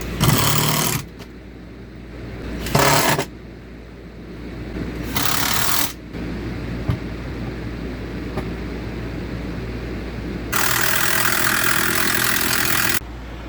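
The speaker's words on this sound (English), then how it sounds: "So I'm gonna get these posts screwed in," A power drill or driver screws posts into a bed frame during a bus interior remodel, with several separate whirring bursts of a second or two each and one longer run near the end, separated by quieter room tone.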